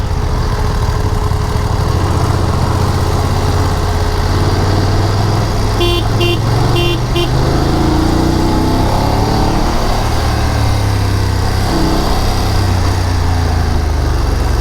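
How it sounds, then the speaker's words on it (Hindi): Heavy engine noise from traffic crowding a landslide-prone mountain road in Bhutan, with vehicles rumbling close by steadily throughout and a brief series of horn honks in the middle. "This is not the traffic that I was expecting here, really bad situation यार।"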